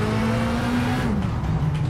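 Ford Fiesta R2 rally car engine in the racing game WRC8 on a Rally de Monte-Carlo stage, droning steadily and close, with its pitch sliding lower about halfway through; no voices.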